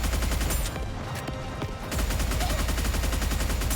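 Rapid automatic gunfire from a character's weapon in the mobile shooter NIKKE: Goddess of Victory, dense and loud, breaking off briefly near the middle before resuming in a fast, steady stream.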